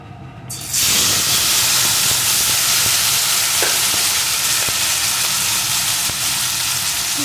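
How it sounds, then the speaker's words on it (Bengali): Turmeric-and-salt-rubbed fish dropped into hot mustard oil, a sudden loud sizzle that settles into a steady, close frying hiss with faint crackles and no talking. "এখন আমি লবণ হলুদ মাখানো মাছগুলোকে এর ভিতরে দিয়ে দেবো।"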